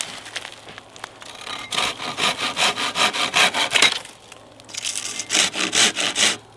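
A small hand saw cuts through a very hard honey locust log outdoors at a spring camp, with close, rhythmic rasping strokes in two bursts separated by a short pause.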